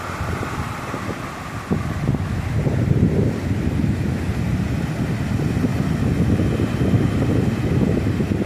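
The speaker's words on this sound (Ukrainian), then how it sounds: "Вітер гарний такий йде, не маленький або чи маленький." Strong, steady wind off the Tyrrhenian Sea roars across the microphone with a low rumbling buffet, sea surf churning underneath throughout.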